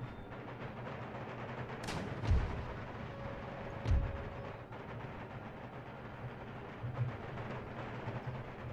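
Howitzers bombard in the battle game Empire Total War: two heavy booms land a couple of seconds apart and a fainter third follows, over a constant rumbling battlefield din.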